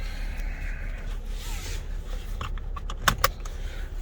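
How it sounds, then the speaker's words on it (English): Inside a 2022 Lexus LX600 F-Sport, a seatbelt strap rustles and then latches with two quick sharp clicks near the end, over a low, quiet cabin hum. "let me get my seatbelt on here"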